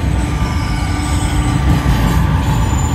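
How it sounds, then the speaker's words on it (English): A southbound Norfolk Southern intermodal freight train rolling past close by, with a continuous loud rumble of wheels on rail and faint squealing throughout. "Another intermodal coming south."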